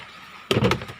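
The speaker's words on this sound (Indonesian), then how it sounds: "tarik lacinya." A car's glove box drawer is pulled open with a short plastic clunk and slide, a brief burst lasting about half a second after quiet.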